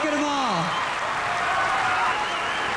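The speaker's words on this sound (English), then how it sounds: "Give them a round of applause, the Raiderettes." An awards-show audience gives a sustained round of applause for the Raiderettes. The dense clapping fills the room, with a voice speaking briefly over the start.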